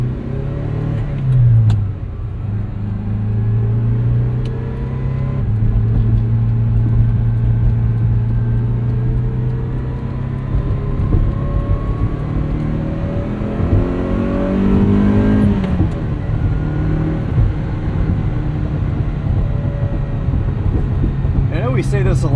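A 1980 Ferrari 308 GTBi with a gated 5-speed manual rumbles and revs while driving, its engine note rising and falling through gear changes, steady and close under intermittent talking.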